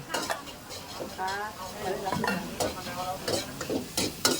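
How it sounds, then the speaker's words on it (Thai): Garlic and chilies stir-fried in a pan for a crab and holy basil dish: brisk, continuous scraping and clattering over a sizzle, close, with a voice briefly in the background. "ผัดกระเทียมกับพริกให้หอม"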